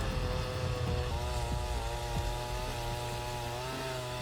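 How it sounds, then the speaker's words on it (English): A compact chainsaw cuts into the trunk of a giant tree, its engine a loud, steady buzzing whine that shifts pitch as it bites into the wood, running continuously throughout. "This is how professional loggers cut down giant trees using a compact"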